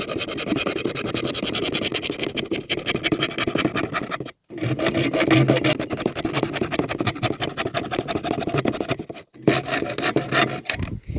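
Hacksaw blade rasping through the edge of a PVC pipe cut from a fan guard, a steady run of close, scratchy back-and-forth strokes with two brief pauses.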